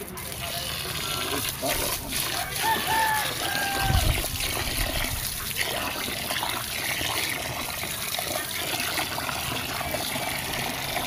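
Water pouring and trickling during outdoor cooking, a continuous splashing wash with brief louder surges, under scattered speech and background noise.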